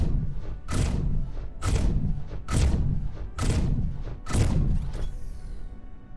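Mortar firing in the space game X4 Foundations: five heavy, booming thuds spaced roughly a second apart, each with a sharp attack and a decaying rumble, alone without talk.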